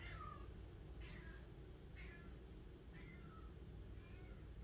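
A cat meowing indoors, five short, faint mews in an even rhythm about a second apart over a steady low background hum, with no talking.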